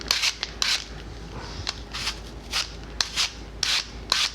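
An apple is turned through a Zoodler vegetable spiralizer, giving a series of close, crisp rasping scrapes in an uneven rhythm over a steady low hum, with no talking.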